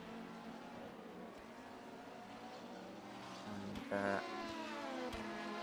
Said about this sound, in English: you can hear the sound of the engines